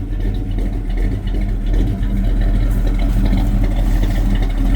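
Steady idle of a 1984 Chevy C10 pickup engine, a continuous low rumble with an even rhythmic lope, close and fairly loud throughout with no talk.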